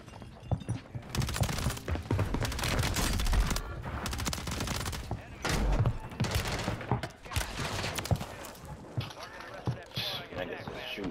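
Rapid bursts of SMG and rifle gunfire in the Warzone battle royale game, with dense volleys and short pauses between them, loud and close. A player talks over the shooting.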